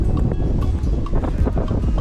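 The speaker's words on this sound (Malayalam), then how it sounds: "നല്ല കാറ്റും" Wind blows at an open forest trekking viewpoint in Malappuram, a steady, loud, rumbling buffet across the microphone with small gusts and no voices.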